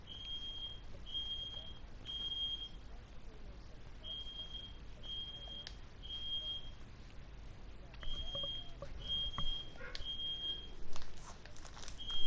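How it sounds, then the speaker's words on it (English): A home smoke alarm going off in repeated short, shrill beeps at steady intervals, with a brief pause near the middle, sounding from across the room over faint background noise. "my fire alarm's going off"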